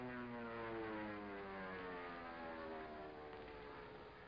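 Small propeller plane flying low overhead, a steady droning engine with strong harmonic tones that slowly shift in pitch as it passes, loud and continuous with no talking.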